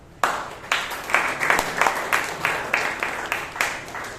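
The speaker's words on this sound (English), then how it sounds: "So I think the President deserves a round of applause now." A Toastmasters meeting in Bangalore applauds its president, claps starting abruptly and settling into a rhythmic, fairly close clapping pattern with distinct individual hand strikes, no talk over it.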